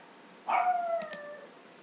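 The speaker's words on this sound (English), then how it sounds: "my dogs are being obnoxious" A dog gives a single drawn-out howl lasting about a second, fairly close and clear, with a couple of faint short yips after it over quiet background noise.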